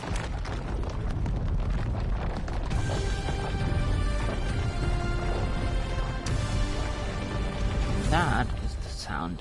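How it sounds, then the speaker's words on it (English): Element powering tech in the video game Ark: a dense, rumbling sci-fi hum with layered sustained tones, metallic creaks and shifting mechanical textures, loud and continuous throughout. "That is the sound of element."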